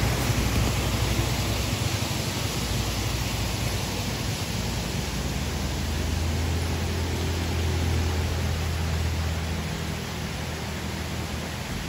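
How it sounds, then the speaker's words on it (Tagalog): Clear water rushes continuously at a quiet nature spot, a loud, close, unbroken hiss of flowing water with no voices over it. "At yung tunog ng tubig,"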